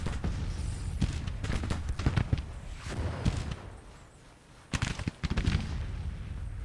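Volleys of musket and cannon fire boom and crack through a Civil War strategy game battle at First Manassas, dense and continuous, thinning briefly before a fresh burst of sharp shots.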